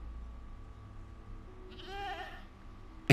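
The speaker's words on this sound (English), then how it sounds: "It's a goat." A goat bleats in Minecraft, a single wavering cry that rises clearly over quiet game ambience, followed by a brief sharp click at the end.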